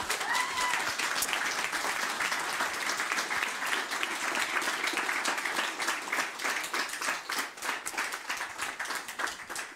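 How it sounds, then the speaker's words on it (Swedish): Warm applause from a seated audience at a public panel debate, dense and continuous clapping sustained throughout at a steady level, fading slightly near the end. "Varm applåd!"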